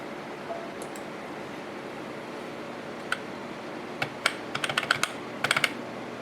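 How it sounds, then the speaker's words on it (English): Keys on a Macintosh Performa 6200CD computer keyboard are pressed in sparse, then quicker clustered clicks, crisp and close over a steady low hum, with no speech. "Does this keyboard work at all?"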